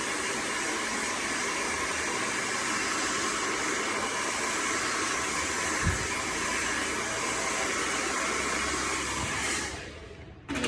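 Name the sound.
hair dryer blowing on cold setting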